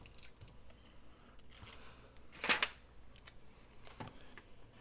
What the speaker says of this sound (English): Oh, don't try to cut it with those scissors.